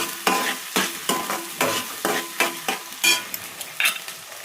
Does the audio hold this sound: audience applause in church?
no